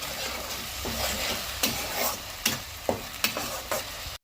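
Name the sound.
tomato and dry spices frying in a pan for fish curry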